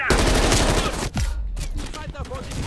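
Heavy machine gun fire in the video game Call of Duty Cold War, a loud, sustained burst of shots followed by shorter bursts and battle noise, with some voice mixed in.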